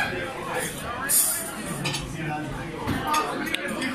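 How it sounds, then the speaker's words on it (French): Fish being mixed in a bowl with lemon juice, giving soft clinks and scrapes of a utensil against the dish, with talking in the background. "Je mélange le poisson"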